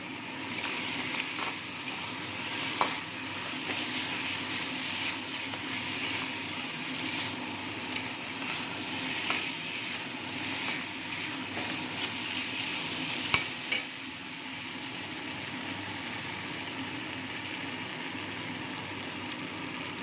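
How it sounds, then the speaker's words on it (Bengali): Fried lentil dumplings stirred into eggplant cooking down in oil, with a steady low sizzle and scraping stir strokes running continuously, a few sharper clicks of the utensil standing out. "এবার আমি দিয়ে দেব ভেজে রাখা বড়িগুলো, দিয়ে ভালো করে মিশিয়ে নেব"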